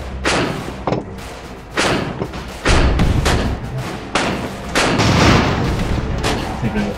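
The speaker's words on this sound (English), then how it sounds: "The bombs are really effective on the scene." Bombs exploding in the airship strategy game Airships: Conquer the Skies, a series of loud, heavy booming thuds that land every second or so, each with a crackling tail, one after another.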